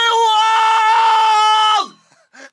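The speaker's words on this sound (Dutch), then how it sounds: "Dan moet je wel eerst even schreeuwen in de boomstam, hè." A person screams loudly into a tree trunk at a mini-golf hole in an amusement park: one long, sustained, high-pitched scream that cuts off abruptly, followed by a brief faint vocal sound.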